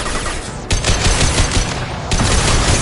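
Heavy weapon gunfire in the Mass Effect video game: dense, loud bursts of rapid automatic fire in two sustained volleys, continuous and close, with no talking.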